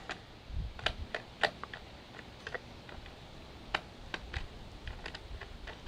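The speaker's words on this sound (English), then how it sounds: "you'll want to back out these screws." Screws being backed out of a terminal block on a solar smart control box, heard as a series of small, close, irregular clicks and ticks with no talking.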